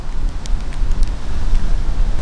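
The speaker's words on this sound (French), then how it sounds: "Il y a beaucoup de vent." Strong wind buffets a microphone outdoors in Seoul, a loud continuous low rumble with gusty surges and brief crackling bursts, no voices.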